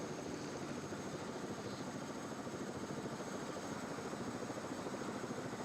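A helicopter hovers overhead during a cross-country ski race, its rotor chop a steady, loud, rhythmic thrum that continues unbroken with no voices over it.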